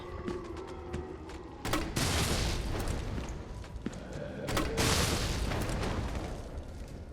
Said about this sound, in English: I might just use my grenade launcher